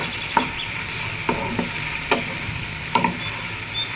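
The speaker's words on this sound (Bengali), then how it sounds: "আমি এগুলোকে নেড়ে চেড়ে আবার আরেকটা ঢাকনা দিয়ে আমি আবার ঢেকে দিই" Okra frying in a pan is stirred, with a steady sizzle broken by four or five sharp scrapes and clinks of the spoon against the pan, close and fairly quiet.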